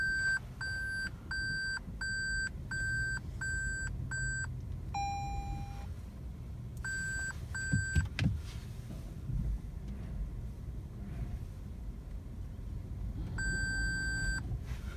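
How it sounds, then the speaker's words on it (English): Parking assist on a 2019 Toyota Prius AWD beeping while reversing: repeated short evenly spaced electronic tones, a longer steady tone, a pause, then the beeping resumes, over low wind and road noise with no talking. "that is your parking assist"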